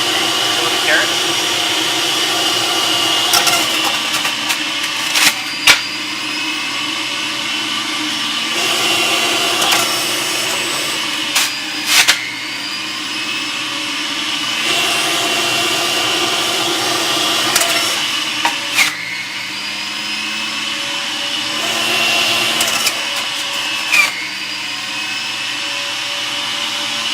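A Breville JE98XL juicer juicing carrots, its motor whining loudly and steadily with the pitch dropping and rising as each carrot is pushed through, sharp knocks and clunks now and then, a voice speaking now and then.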